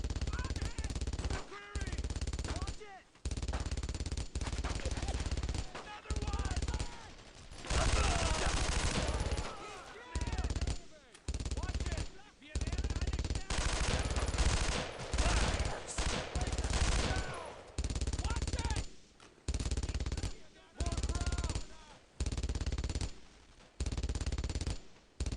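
Near-continuous automatic and rifle gunfire in the World War II video game Brothers in Arms: Road to Hill 30, dense loud volleys broken by brief pauses, with soldiers shouting over the shooting.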